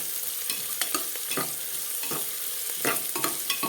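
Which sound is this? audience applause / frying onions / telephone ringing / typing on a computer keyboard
frying onions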